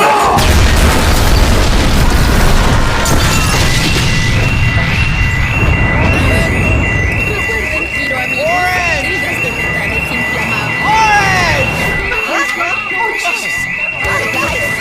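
A cartoon explosion sound effect opens with a loud, deep boom and rumble that fades over several seconds, followed by high whistling and ringing tones, with voices heard faintly.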